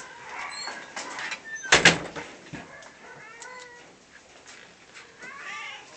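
A cat meows indoors several times in short, rising calls, with one loud clatter like a door or object banging partway through.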